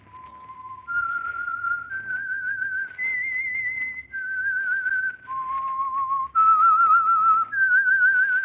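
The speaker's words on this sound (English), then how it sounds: "That whistle is your signal for the Signal Oil Program, The Whistler." A clear, steady whistled theme tune for the 1947 CBS radio mystery The Whistler, sustained notes with small pauses between phrases and no voices.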